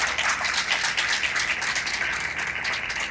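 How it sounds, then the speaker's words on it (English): Audience applause in a school auditorium at a STEM academy ceremony, honoring the principal: a steady, dense wash of clapping held at even loudness throughout, with no voices standing out. "he deserves a round of applause"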